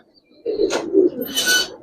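Giribaz coloring pigeons, called Road Master pigeons, give a close, loud coo followed by a sharper flutter or rustle, a brief burst of bird sound with no talking.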